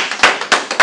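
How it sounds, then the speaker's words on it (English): A few sharp hand claps land in a quick uneven burst, close and loud, like the first scattered applause from an audience greeting a speaker. "Everybody please give Mr. Gauthier a round of applause and a standing ovation"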